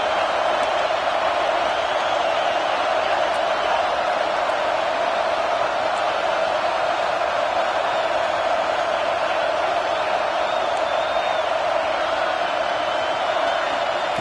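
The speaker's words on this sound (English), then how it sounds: "Listen to the crowd energy here in the early going." A football stadium crowd at an A&M versus Texas game cheers as a steady, distant roar that stays constant throughout with scattered whoops in it.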